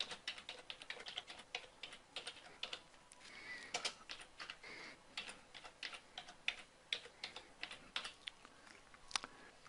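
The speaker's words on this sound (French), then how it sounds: "je vais taper mon autre texte" Keys clatter on a computer keyboard as text is typed into Photoshop, a quiet, close, irregular stream of light clicks with no speech.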